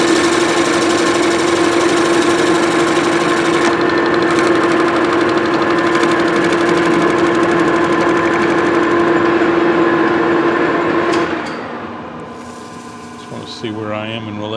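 Brass casting being machined for a steam whistle lever bracket, a loud continuous mechanical whine and cutting drone that runs steadily, then drops away near the end as the machine winds down.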